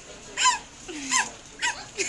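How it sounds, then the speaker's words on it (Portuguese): A dog gives several short whimpering yips and barks in separate bursts, close by, with quiet pauses between them and no talking. "Mais um cachorro."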